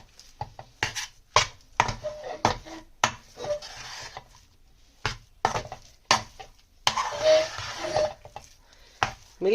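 Milk powder, coconut and milk being mixed in a pan for Sindhi coconut barfi, a spoon scraping and knocking against the metal in irregular bursts with quiet gaps between strokes.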